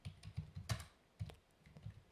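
Typing on a German computer keyboard: quick, irregular clicks of keys in short bursts with a brief pause, close-up and quiet, no voices.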